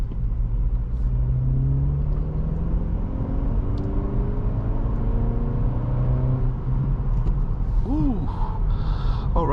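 A manual transmission car downshifts as its engine drones and rises in pitch through a gear change, heard from inside the cabin, with a brief voice sound near the end.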